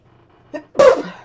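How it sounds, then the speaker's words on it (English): A single close sneeze, a short sharp intake followed by a loud explosive burst that trails off quickly. "Excuse me, I'm gonna sneeze."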